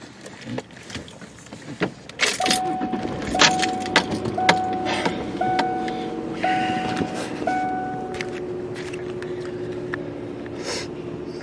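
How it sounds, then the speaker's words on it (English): Keys jangle close up as someone starts a car during a cold-weather stay, followed by a soft electronic chime repeating in an even rhythm over faint cabin rustling. "Let me start my car and show you here."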